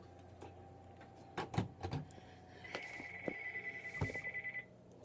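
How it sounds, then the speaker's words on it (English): An incoming call sets a telephone ringing, a steady electronic trill that pulses quickly for a couple of seconds, quiet and indoors, after some scattered clicks and knocks. "There's a phone call coming in."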